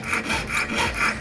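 A hand saw cuts out a letter O on a wooden nameplate with a light touch, giving steady rhythmic rasping strokes, close and alone, about four even passes with no talk.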